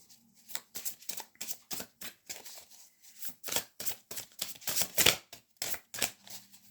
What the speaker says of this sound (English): can I have a blind spot card, please, for Aquarius, Libra, Gemini